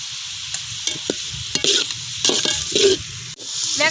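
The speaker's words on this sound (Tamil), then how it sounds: "வெங்காயம் வதங்கிடுச்சு." Onions and green chilies sauté in a pan for quail gravy, with a steady sizzle and sharp spatula scrapes and taps at irregular intervals, close and fairly loud, no voices.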